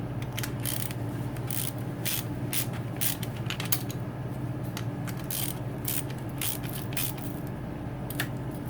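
A ratchet tightens a bolt on a YZ250 motorcycle engine during top-end work, giving a long run of rapid, evenly repeated clicks, close and steady under a constant background hiss.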